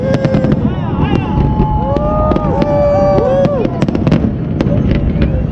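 Dense New Year's Eve fireworks burst in rapid succession in Dubai, sharp cracks and booms layered with whistling rising streaks, loud and continuous, while people talk and cheer underneath.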